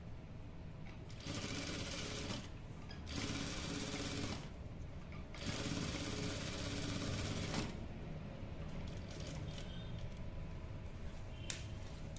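A sewing machine stitches a trouser zipper fly in bursts of steady, rapid mechanical whirring, several runs separated by short pauses, close and fairly quiet.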